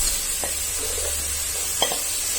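Ginger garlic paste and green chillies stirred in a hot pan for a chicken curry, a soft steady sizzle broken by two brief scraping strokes of the spoon.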